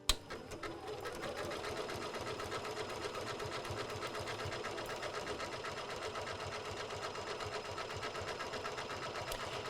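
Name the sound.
sewing machine sewing fabric with decorative stitches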